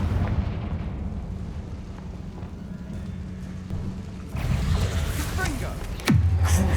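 A Confringo fire spell goes off in the video game Hogwarts Legacy, a sharp explosive blast near the end over ongoing rumbling game noise and a voice.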